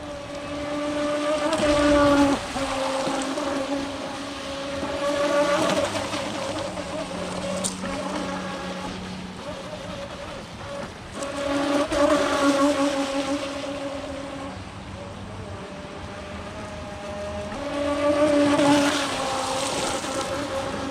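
Small RC boat motor whining steadily at full throttle as the boat runs across a flooded soccer field, a loud, continuous buzz that rises and falls in pitch as it passes near and away, with some wind noise.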